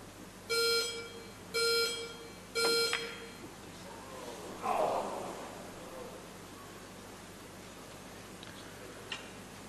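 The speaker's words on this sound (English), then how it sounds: "The beeps of the clock came in." Shot clock at the 2013 World Pool Masters 9-ball final gives three clear, evenly spaced electronic beeps, loud against a quiet arena hush, followed by a softer tone and faint crowd murmur.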